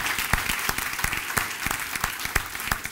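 A church congregation gives a hearty round of applause, a dense, steady patter of many hands clapping at close range that keeps going through the whole stretch.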